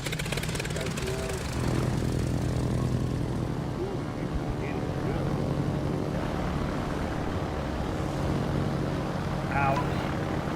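A torpedo bomber aircraft in a naval combat video game drones with a steady propeller hum and engine rumble, loud and continuous, while people talk over it.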